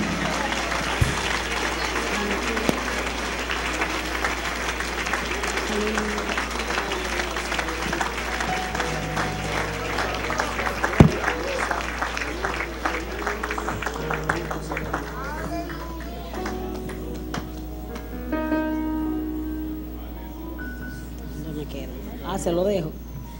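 A church congregation applauds at a Sunday morning service, with loud, sustained clapping mixed with crowd noise, voices and music throughout.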